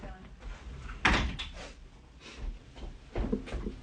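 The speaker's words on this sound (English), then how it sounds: "Okay, hang on, I'll just shut the door." A door shut nearby with one sharp knock-like thud, preceded and followed by faint rustling and handling noises; a leaf blower may be running outside.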